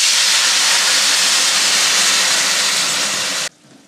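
Red wine poured into a hot pan with onions for a stroganoff gives off a loud, steady, steamy hiss lasting a few seconds before stopping sharply.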